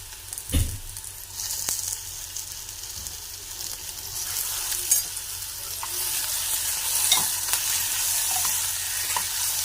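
Chopped onion and tomato sizzle steadily in a pan for chole, with occasional scrapes and clicks of a spoon stirring them, close and fairly loud with no talking.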